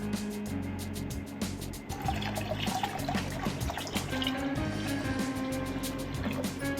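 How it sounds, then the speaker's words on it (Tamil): Water running into a cooking pot to boil pasta, a continuous splashing, filling gurgle close to the mic with a few clunks and knocks, heard alone without talk. "தேவையான அளவு தண்ணி சேர்த்துட்டு கொஞ்சமாக உப்பு, கொஞ்சமாக ஆயில் சேர்த்துட்டு 2 கப் அளவுக்கு பாஸ்தா"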